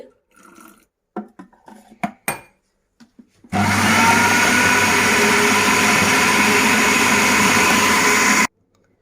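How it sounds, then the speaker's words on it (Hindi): Electric chopper blending a falafel mixture of chickpeas with soda, salt and added water, starting after a few light clatters and then running as a loud, steady whir for about five seconds before stopping abruptly. "अभी ये अच्छे से चॉप हो चुका है।"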